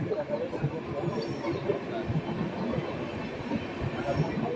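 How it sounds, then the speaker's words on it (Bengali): The Sikkim Mahananda Express emerges from a railway tunnel on the Alipurduar to Siliguri run through the Duars, a steady close rumble of wheels and carriages with rhythmic clatter throughout. "পুরো টানেল থেকে আমাদের ট্রেনটা"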